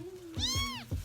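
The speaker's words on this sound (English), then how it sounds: "Four little kittens." Small kittens outdoors on a cold fall day giving a couple of short, high, rising-falling meows close up, the second one brief, with no talking.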